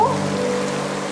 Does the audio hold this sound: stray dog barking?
no